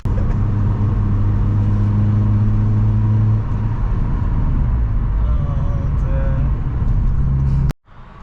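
A car driving on the road toward a Honda dealership, a loud, steady engine drone and low road rumble inside the cabin that shifts slightly in pitch, then cuts off abruptly near the end.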